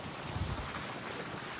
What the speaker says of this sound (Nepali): ओए कत्रै हावा चल्छ हेर्न सक्नुहुन्छ